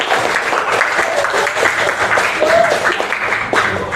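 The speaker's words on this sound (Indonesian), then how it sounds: "Kita berikan tepuk tangan dulu untuk Nesya ya." A classroom of students claps for a classmate, steady dense applause filling the whole moment at close range with faint voices mixed in.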